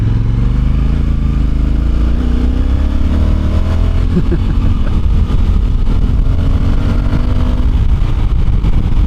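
A Honda Africa Twin DCT motorcycle engine drones steadily and loudly on a highway, its pitch climbing as it gathers speed, with continuous rushing wind noise over the top.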